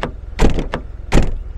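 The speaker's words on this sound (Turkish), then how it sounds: "Bak kapı seslerimiz" A Renault Taliant car door is opened and then shut, giving two separate solid thunks about three-quarters of a second apart over a low background rumble.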